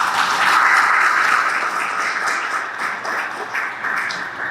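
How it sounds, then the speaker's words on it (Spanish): An audience applauds at a formal event on an electoral process, producing a steady wash of clapping at moderate loudness for several seconds. "Un fuerte aplauso."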